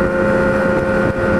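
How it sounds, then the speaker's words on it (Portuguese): A Kawasaki Z1000 motorcycle engine revs steadily and close, its rough 4-into-1 exhaust roar holding nearly constant for a brief moment with a small dip near the end. "tirar um pouquinho do pó das carenagens e deixar o escapamento brincar."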